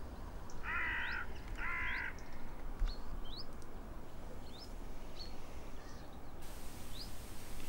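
Crows caw over a field during a crow hunt. Two loud, close caws come first, followed by several fainter, scattered calls over low outdoor background noise.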